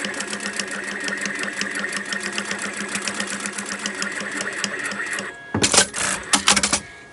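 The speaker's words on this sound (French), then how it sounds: "On va coudre une partie comme ceci" A sewing machine runs steadily for about five seconds, stitching a small fabric Sunbonnet Sue keychain doll, a fast even mechanical whir with fine repeated ticks. It then stops and gives way to a few short, louder handling noises.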